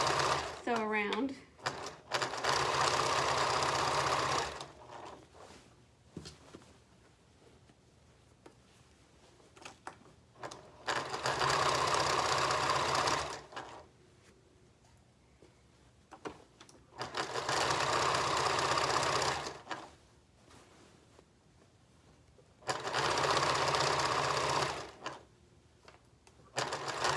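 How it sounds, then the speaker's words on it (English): A sewing machine stitches around a fabric bin in four long, steady runs of rapid mechanical whirring, with spoken instruction in the pauses between them. "I'm just kind of rotating the bin as I sew around."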